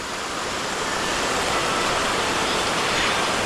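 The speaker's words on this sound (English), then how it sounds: "the water is very loud" A loud waterfall roars in a continuous dense rush of crashing water, steady and close with no pauses and no voices.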